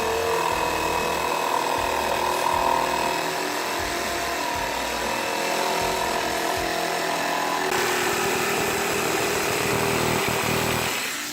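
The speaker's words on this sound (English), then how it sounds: "So I cut these patches with the saber saw, line them up and put them in place." A saber saw cuts patch pieces for a Ford E-150 conversion van, making a loud, continuous buzzing and rattling drone that holds steady for over ten seconds before tapering off.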